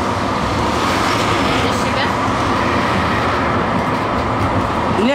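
A new BKM 84300M tram car runs on a route from the railway station to Bolshaya Krylovka, giving a steady, loud, continuous rolling rumble with faint rail clatter for the whole stretch.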